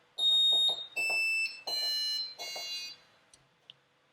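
Electronic beeps and tones from a small sound speaker driven by a keypad on a Lost in Space electronics kit, several sustained pitched notes in a row, clear and loud, then a couple of short blips.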